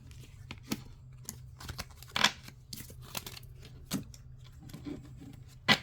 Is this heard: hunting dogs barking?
no